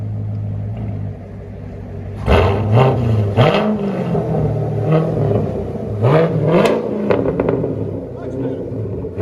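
A 2017 Chevrolet Corvette Z51 Stingray with an LT1 V8 and straight-pipe dual exhaust idles with a low rumble, then revs loudly in two bursts of rising and falling throttle blips, close by.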